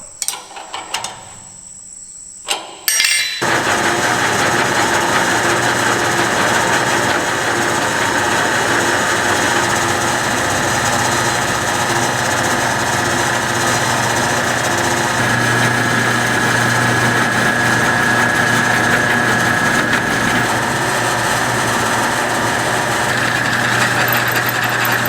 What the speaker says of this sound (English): So we'll make this relief cut on both sides.